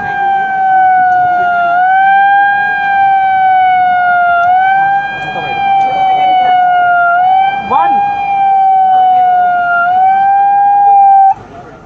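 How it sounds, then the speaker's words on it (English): A warning siren sounds during a railway anti-collision system test, a loud steady wailing tone that dips and rises slowly throughout, with a few faint voices and background noise beneath it. "the siren has gone off, which means the train is coming"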